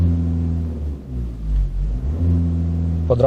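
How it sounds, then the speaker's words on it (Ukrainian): A VW 2.0 TDI diesel engine revs under the throttle during injector diagnostics, a loud close idle rumble that rises and dips with a couple of short throttle blips. "Ось газую."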